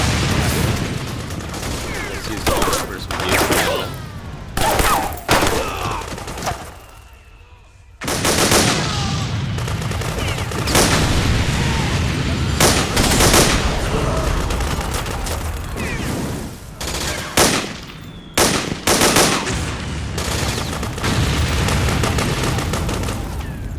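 P90 submachine gun fire in Metal Gear Solid 4, loud rapid bursts that crackle and boom almost nonstop, broken by a short quiet gap, amid battlefield mechanical noise with no talk.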